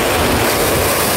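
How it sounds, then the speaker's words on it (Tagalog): Strong waves surging against a boulevard seawall on a dry, fair day, heard as a loud, continuous broadband wash of surf and wind with no distinct breaks or voices. "Pero talagang grabe yung alon dito sa boulevard."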